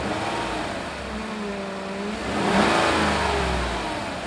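A 2018 Chevy Silverado's 5.3-liter Ecotec V8 revving through a subtle stock exhaust, a deep steady mid-pitched engine note that swells in a single rev and then settles, heard alone.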